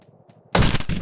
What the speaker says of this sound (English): That explosion is just the best.